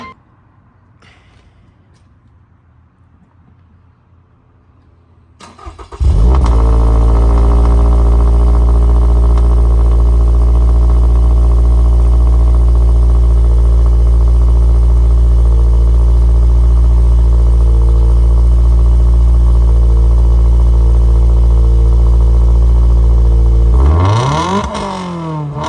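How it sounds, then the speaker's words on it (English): Three cars including a straight-piped Ford Mustang cold-start one after another, the engines barking to life and settling into a loud, steady, rumbling idle that fills most of the recording before cutting off near the end. "But I'm gonna get all three cars and we're gonna do a nice cold start"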